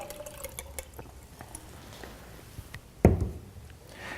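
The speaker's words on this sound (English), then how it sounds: "So we'll take our tomatoes that have been soaking in the tap water and we're going to pour them into here." Soaked tomatoes and tap water pour into a container in a kitchen: faint trickles and small knocks lead to a sudden louder splash and rush of water near the end.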